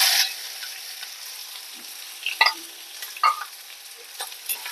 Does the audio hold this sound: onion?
yes